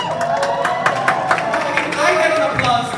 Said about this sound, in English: Okay, I get an applause